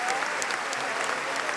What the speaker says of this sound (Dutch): Magistraal applaus ook volgend op dit magistrale concert.